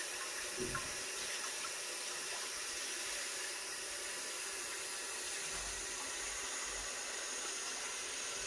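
Lukewarm water runs steadily from a kitchen tap for bread dough, a continuous hissing stream heard close and alone, with a few faint knocks partway through.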